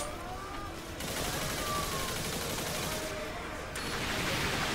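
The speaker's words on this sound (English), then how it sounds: "this is like the machine gun version" Rapid automatic gunfire from a machine gun in the video game Earth Defense Force 2025, a dense sustained fusillade with brief lulls, loud and continuous through the whole stretch.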